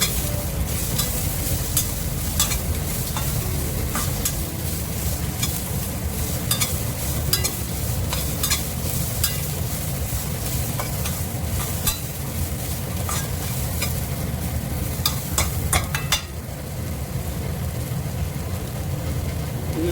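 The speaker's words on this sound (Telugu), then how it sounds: "అలానే పెప్పర్ పౌడర్, ఇవి వేసుకొని మనం ఫ్రై చేసుకోవాలి." Spices, pepper powder and pigeon pea seeds fry in a pan for a masala curry, a steady close sizzle with scraping stir strokes throughout.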